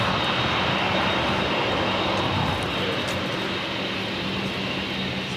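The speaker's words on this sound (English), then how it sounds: "You have Austrian taxiing there in the background." An Austrian Airlines airliner taxiing at LAX, a steady broadband jet engine roar held at an even, fairly loud level throughout, somewhat in the background with no talk over it.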